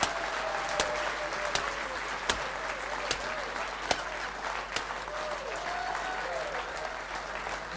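Sustained audience applause in tribute to a Surinamese singer, a dense, even roar of clapping with occasional louder single claps and faint voices mixed in.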